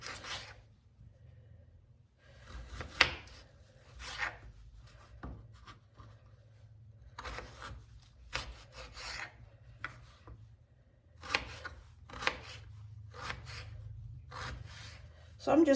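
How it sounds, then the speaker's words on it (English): Unpeeled potatoes being cut into cubes with a knife on a board, irregular scraping chops and rasps in short bursts spread across the span, close but quiet. "So I'm just cutting them into cubes."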